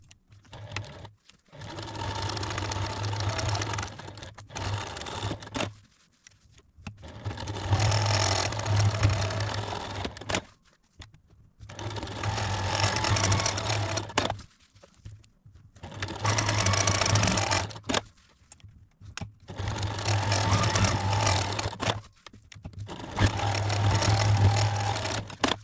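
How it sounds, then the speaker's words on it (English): A sewing machine quilts lines across a fabric potholder in several long steady bursts of rapid stitching, separated by short pauses, close and loud. "let's go to the sewing machine and finish the quilting"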